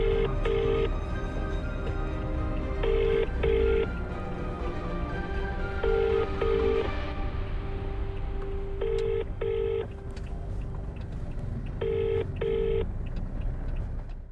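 A telephone call rings unanswered, repeating paired ring bursts about every three seconds, clear and steady over a constant low rumble, with no one picking up.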